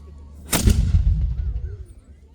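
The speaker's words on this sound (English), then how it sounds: "we're going to go for cannon again" A single loud cannon blast at Fort George, booming and close, with a rumbling echo fading away afterward.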